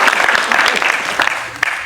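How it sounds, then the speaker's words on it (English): Applause from a conference audience at a Dubai real estate summit, brisk crowded clapping with a few sharper individual claps standing out, fairly loud and close, tapering slightly toward the end. "let's give a round of applause to everyone sitting over here who's been a part of this journey."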